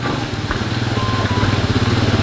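A motorcycle idles nearby on a flood-damaged road, its engine putting out a low, throbbing, pulsing putter that holds steady and fairly loud throughout.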